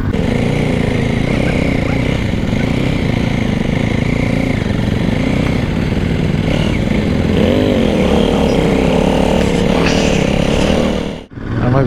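Motorcycles on a group ride pass a check gate at Bogibeel, their engines droning loudly and continuously close by, revving up and down, before cutting off abruptly near the end.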